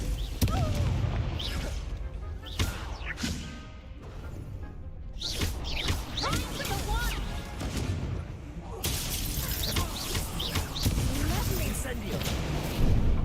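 Explosive Confringo spell blasts in Hogwarts Legacy boom and shatter repeatedly amid dense game combat noise, loud and close, with a voice speaking over the action.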